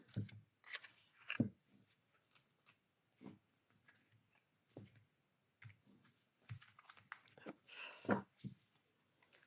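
Used tarot cards being shuffled and cut by hand on a table, soft rapid papery riffles and light taps in irregular bursts, quiet and close.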